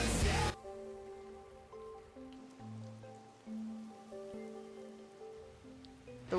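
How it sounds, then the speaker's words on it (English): Rain in the video game Rain Code hisses steadily beneath a slow melodic game music score, at moderate level with no talking. "We're making rain."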